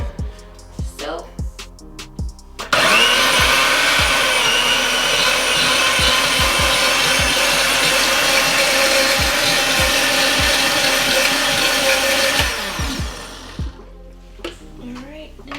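A blender purees strawberries with a splash of water into a puree for strawberry lemon cupcake frosting, running as a loud, steady motor whir for about ten seconds, preceded and followed by quieter kitchen clatter and talk.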